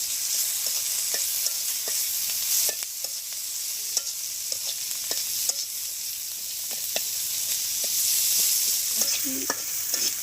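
Onions frying in a pan with salt and turmeric in a village kitchen, a steady hiss of sizzling broken by frequent clicks and scrapes of stirring, close and alone.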